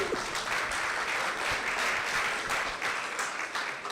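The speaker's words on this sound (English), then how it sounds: "So can we give a round of applause to myself and the farmers behind me?" Steady applause from an audience at an agricultural digital skills event, a dense, continuous clatter of many hands clapping, moderately loud with no talking over it.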